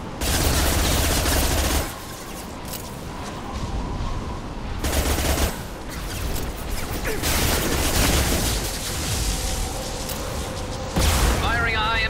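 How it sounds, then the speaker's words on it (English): Heavy gunfire from a Mass Effect 2 battle, loud bursts of shots and booming impacts coming in several dense clusters with brief lulls between them. "Firing a high-impact shot."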